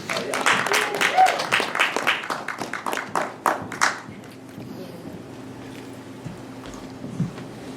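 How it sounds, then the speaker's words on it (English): Hands clap for Lori at an ocean film festival event, a lively round of applause for about four seconds that thins into a few scattered claps, followed by quiet room noise and a faint thump. "let's give her a round of applause"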